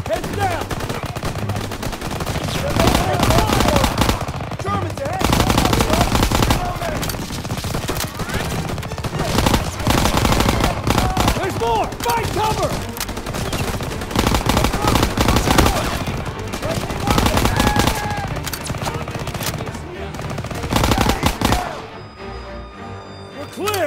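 Sustained gunfire from a Call of Duty: WWII battle, dense bursts of rifle and machine-gun shots layered over a constant loud combat din for most of the stretch, easing off briefly near the end.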